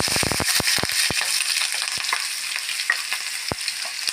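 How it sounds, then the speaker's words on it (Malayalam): Sliced onion sizzling in coconut oil in a pan, a steady loud frying hiss broken by several sharp clinks of a spoon at the start and a few later, with no voices. "അതിൽ ഒരു സ്പൂൺ വെളിച്ചെണ്ണ വീത്തിൻ്റെ അതിലേക്ക് ഞാൻ സവാള ഇടണം"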